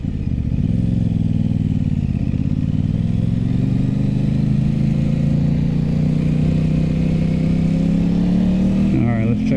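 An Aprilia RS 660 motorcycle engine revs loudly and steadily through a test run, its pitch rising gradually over several seconds before a quick dip near the end, with no talking over it.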